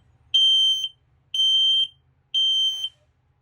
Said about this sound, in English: The first beep is for the LP. That second solid beep is carbon monoxide.